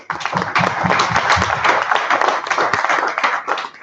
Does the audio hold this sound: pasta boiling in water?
no